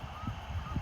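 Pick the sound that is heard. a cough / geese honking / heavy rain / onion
geese honking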